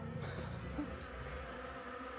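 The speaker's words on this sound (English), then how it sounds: "These bees! They're a bit aggressive, yeah." Buzzing swarm of bees in the video game Arabian Nights, a steady insect drone running throughout at low level beneath game sounds, with no clear talk over it.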